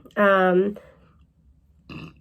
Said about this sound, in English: Excuse my burp, sorry.